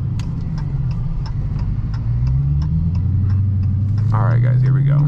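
Dodge Challenger Hellcat V8 rumbling loudly from the cabin while driving, the engine pitch dropping and rising through downshifts, with a steady ticking and a voice speaking over it.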